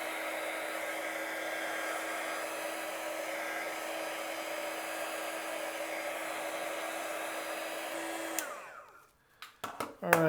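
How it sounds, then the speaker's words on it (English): A heat gun drying wet paint over a transferred image whines with a steady, close airflow hum for several seconds, then switches off and winds down, followed by a few faint handling clicks. "It doesn't take long to dry the paint, especially with a heat gun."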